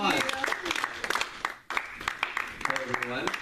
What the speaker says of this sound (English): So let's give them a hearty round of applause.